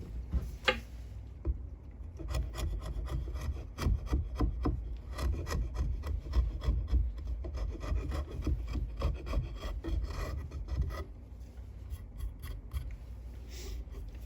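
A wooden framing hammer handle scraped by hand, a series of short dry rasping strokes repeating at close range, loud and uneven, with brief pauses between.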